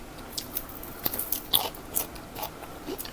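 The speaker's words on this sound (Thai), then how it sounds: "นี่ก็เคี้ยวเพลินมากเลยปลาปลาช่อนทะเลเนี่ยมัน เค็มนิดอร่อยนะ" Dried salted sea snakehead fish is bitten and chewed close up, giving a series of crisp, irregular crunches with no talking.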